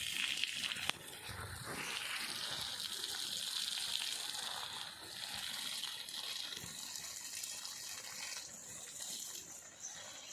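Broad, steady rush of water sprays from a garden hose outdoors by a vegetable garden, a continuous hiss holding at an even level for the whole stretch with no voices.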